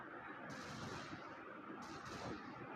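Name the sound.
gunfire in a Wild West shooting video game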